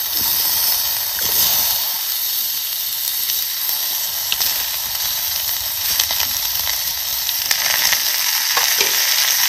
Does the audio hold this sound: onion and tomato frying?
yes